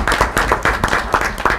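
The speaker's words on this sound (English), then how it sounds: "let's give her a round of applause for that" A small audience claps for a student-of-the-month honoree at a live event. A few sharp hand claps are clearly heard in an uneven rhythm, fairly close and alone.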